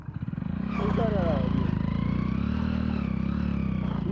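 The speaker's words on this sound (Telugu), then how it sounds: "అది చూడండి ఇలా కొట్టుకుంటుంది బైక్" A motorcycle engine runs close by with a rough, rapidly pulsing knock that rises and then holds steady, while someone talks over it.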